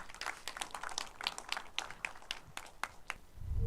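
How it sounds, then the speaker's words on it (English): A small audience claps to welcome a speaker on stage, with scattered individual hand claps in a loose patter that is fairly faint and thins toward the end, followed by a low rumble. "a huge round of applause for Kaiser to be joining us on stage"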